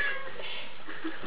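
A wet cat lets out a single drawn-out, plaintive meow while being shampooed in a bath, heard up close.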